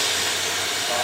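Steam hissing steadily and loudly from a steam locomotive (BR&W 60) as its compressors are drained during preparation for an excursion, a dense continuous broadband rush lasting about a second.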